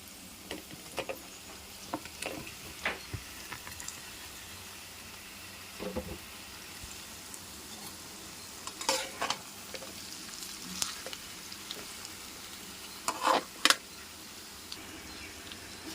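Boiled, peeled, cut potatoes fry gently in a pan with onions, green chillies and ginger, giving a soft, quiet sizzle under intermittent scraping as a spoon stirs them.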